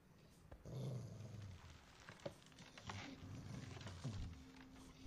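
Hungry dogs in a Game of Thrones battle scene growl low and menacingly in several rising and falling rumbles, fairly quiet with faint background noise.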